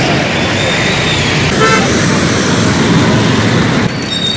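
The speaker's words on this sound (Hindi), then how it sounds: "देखो कितना ट्रैफिक है" Busy Bangalore street traffic during a Ganesh pooja outing, with vehicle horns tooting over a dense, steady roar of cars and buses close by.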